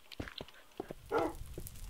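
Minecraft wolves barking in a game: a few short, moderately faint yaps spaced through the moment, with a brief noisy burst midway and no talking.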